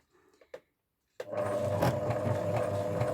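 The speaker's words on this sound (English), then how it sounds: "where you actually push the two bits of rope together in the middle there, you zigzag" After a few soft clicks and a short pause, a sewing machine starts up and zigzag-stitches two lengths of rope together for a rug, running with a fast, steady mechanical whir and rhythmic chatter close by.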